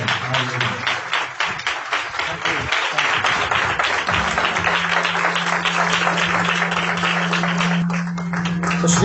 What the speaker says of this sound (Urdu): آپ کی زوردار تالیوں میں